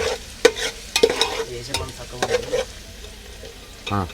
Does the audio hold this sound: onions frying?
yes